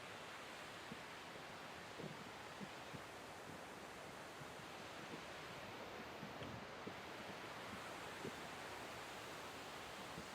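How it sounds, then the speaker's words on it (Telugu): The Kothapalli waterfalls give a steady, broad roar of rushing water that stays even and continuous with no talk over it. "చూస్తున్నారు కదా, మొత్తం అంతా కూడా వాటర్ ఫాల్స్."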